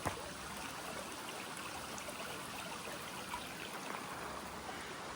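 A steady, hissing rush of a clear mountain stream near Mt Marathon, Seward, runs continuously at a soft, even level, with no voices.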